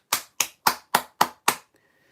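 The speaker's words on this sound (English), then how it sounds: "Clap your hands." Six sharp, evenly spaced hand claps by students in a physics lesson, each a crisp close snap about a quarter second apart, followed by quiet.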